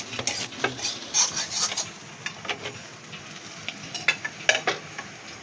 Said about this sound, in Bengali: বন্ধুরা দেখো তেল ছেড়ে দিয়েছে, আমার লোটে মাছ ভাজাটা হয়ে গেছে।